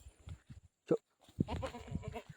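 A goat bleats once, short and close, amid scuffling and a person speaking nearby on a village farm.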